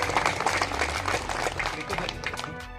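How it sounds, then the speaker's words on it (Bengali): Audience clapping at a Trinamool Youth Congress felicitation gathering in Jangipur, a steady dense patter of many hands throughout with a crowd murmur underneath. "এবার জোরে হাততালি।"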